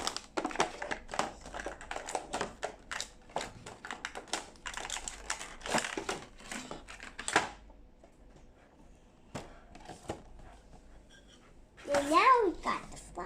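Plastic packaging around a My Little Pony Equestria Girls Rainbow Dash mini doll crinkles and tears in sharp, crackling bursts for several seconds, followed by a quieter stretch and a voice.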